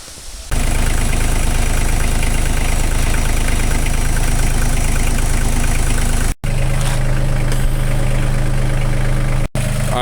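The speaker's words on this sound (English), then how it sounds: "while he pushes on the jack with the tractor" A tractor engine idles steadily and loudly up close while pushing a jack under a rebuilt Dana 60 axle for a 1996 Ford F-250, a constant low rumble with two brief cutouts near the end.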